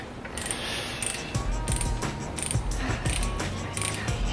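A ratchet works loose the main cap bolts on a big-block Mopar engine during a 1970 Plymouth Duster build, giving a series of quick, close clicking bursts with faint mechanical clatter between them and no talk.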